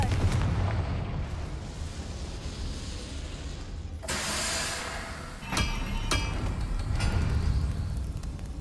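A fire spell explodes in the Hogwarts Legacy game with a heavy booming blast partway through, followed by a few sharp crackling bursts over a continuous rumbling backdrop.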